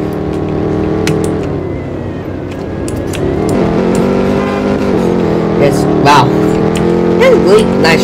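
A car drifts with its engine revving and droning, the pitch rising and wavering, and a few squeal-like sweeps near the end, while people talk over it.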